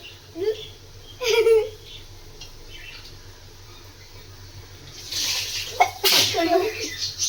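A single sharp human sneeze, set off by pungent fumes from a fish curry cooking in tamarind, bursts out close among quiet kitchen sounds, with a second loud breathy burst and faint voices.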